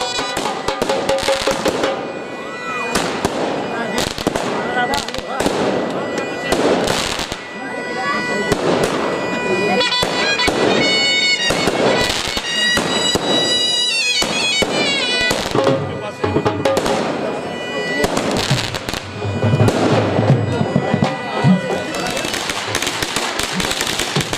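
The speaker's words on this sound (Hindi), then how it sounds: "और आतिशबाजी भी पाकिस्तानी शादियों का हिस्सा है।" Fireworks and firecrackers at a Pakistani wedding crackle and pop in dense, continuous bursts, loud and close, with crowd voices and talk mixed underneath throughout.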